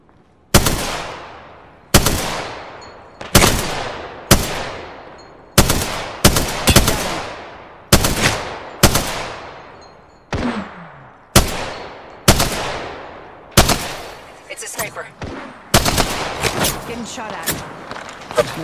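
Repeated sharp gunshots in the Apex Legends battle royale game, about a dozen loud cracks spaced one to two seconds apart with ringing decay, bunching into quicker bursts near the end.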